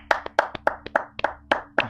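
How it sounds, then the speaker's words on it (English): Hands clapping in a quick, uneven rhythm of about a dozen sharp claps over two seconds, close and fairly loud, sounding like a small group rather than a large crowd. "Let's clap it up."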